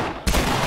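A nail bomb detonates in The Last of Us, a sudden loud close blast that cuts in sharply and rumbles on after a brief quieter moment.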